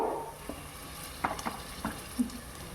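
Chicken hits a hot pan of onion, garlic and turmeric and fries with a steady sizzle, broken by a few sharp scrapes and stirring clatters; close and moderately loud, no talking.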